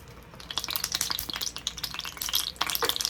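Oil in a skillet crackling and spitting as it heats for frying salt fish and rice dishes in a Jamaican-style home kitchen, a steady close sizzle with scattered sharp pops throughout.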